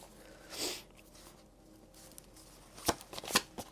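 Quiet shuffling of tarot cards, with a soft riffle early on and a few sharp snapping bursts of cards near the end.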